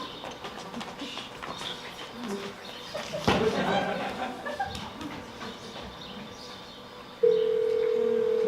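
A telephone number is keyed in, then a steady dial tone comes on, with people talking and birds faint in the background.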